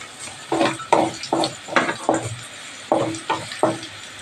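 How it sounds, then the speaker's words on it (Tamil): Onions sautéing in a pan for an anchovy fish curry, with a spoon stirring in repeated rhythmic scrapes and clinks over a soft background sizzle, close and alone. "நல்லா வதக்கணும், பொன்னிறமாக வதக்கணும் வெங்காயம்."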